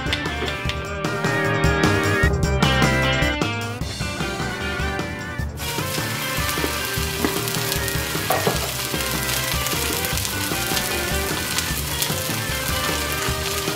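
Tuna searing in a Le Creuset enamelled cast iron skillet gives a loud, continuous, dense sizzle with crackling spatter throughout, steady and close, with no voices.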